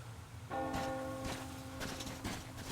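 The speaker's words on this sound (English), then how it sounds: "Do you hear that bell?" Bell tolling in the video game Metro, a resonant strike ringing out and sustaining under faint clanks and scuffs, fairly quiet and distant.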